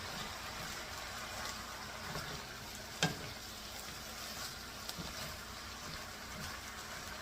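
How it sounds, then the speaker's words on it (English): Rice being stirred into a sweet and sour sausage stir fry, a soft steady sizzle with scraping stirs and one sharp utensil clink, quiet and close. "I'm going to add the rice to it. And we're going to start stirring that in."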